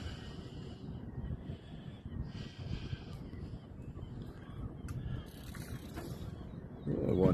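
A fishing reel's drag clicks rapidly in a steady ratcheting buzz as a big catfish pulls line, with wind and water noise around it and a louder bump at the end.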